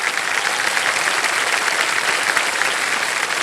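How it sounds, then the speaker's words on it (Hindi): Studio audience applause on the quiz show Kaun Banega Crorepati season 17, a steady, dense, loud wash of clapping that carries on unbroken with no voices over it. "ताली बज जाए इनके लिए"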